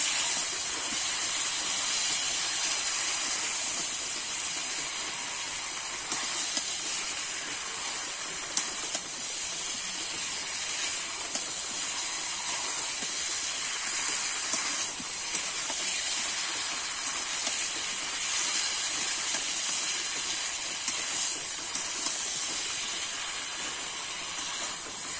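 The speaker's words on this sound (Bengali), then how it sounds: "এবারে দিয়ে দেবো ধুয়ে কেটে রাখা খাসির চর্বিটা। আবারও কিন্তু ভালো করে আমি কষে নেব।" Washed, chopped goat fat sautés in a pan with spiced mutton for aloo dum, producing an even, unbroken sizzle at moderate volume with faint stirring ticks and no voices.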